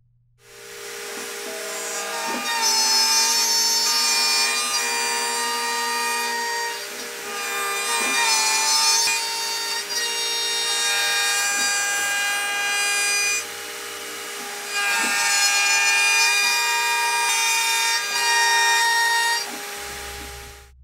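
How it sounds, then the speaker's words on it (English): A CNC router fitted with a quarter-inch cutter mills wiring cavities into a wooden guitar body, giving several loud whining, rasping cutting passes with short lulls between them and quiet machine hum underneath. "Then we change up to the quarter inch cutter and we do this wiring cavities."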